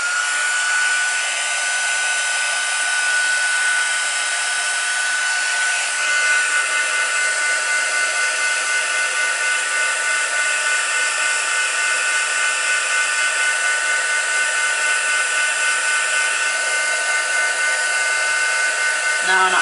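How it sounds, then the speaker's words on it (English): A heat tool blows steadily on a stamped card to puff up embossed clouds, a loud, close, continuous whirring hiss that holds unchanged for the full stretch. "Let's get the heat tool on quickly and see if it puffs these clouds up."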